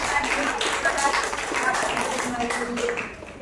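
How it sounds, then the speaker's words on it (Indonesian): Clapping from a classroom of students, a steady dense patter of many hands sustained for a few seconds, close and fairly loud, with a voice mixed in as it fades. "kita berikan aplaus dulu ya pada pilihan dari"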